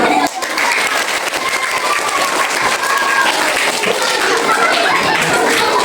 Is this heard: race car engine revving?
no